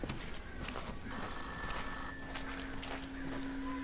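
Telephone ringing in a horror video game, a bright electronic ring with steady tones that swells for about a second before softening, set over a constant low ambient hum.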